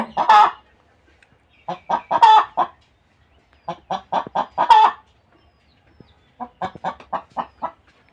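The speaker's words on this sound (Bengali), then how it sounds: "এখানে মুরগিটি ডিম দিচ্ছে" A nine-month-old tiger breed hen clucks while laying an egg, giving several close, loud bursts of rapid clucks separated by short silences.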